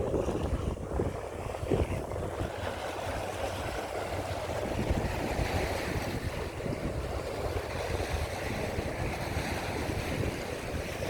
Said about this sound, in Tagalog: Parang lumalakas ang alon.